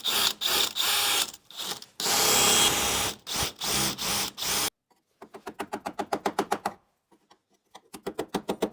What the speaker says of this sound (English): Go use this spot weld drill bit.